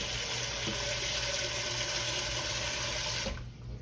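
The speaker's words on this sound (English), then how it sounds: "And I'm gonna fill this pot up." Tap water runs steadily into a cooking pot being filled with liquid for canning green beans and potatoes, a continuous rushing splash that stops abruptly near the end.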